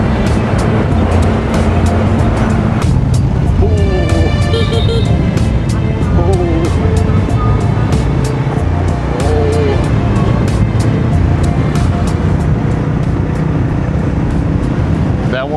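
A motorbike ride at night through city traffic in Da Nang, Vietnam: constant loud wind roar and engine drone up close, with passing vehicles and horn-like tones rising out of the rush, and voices faintly underneath.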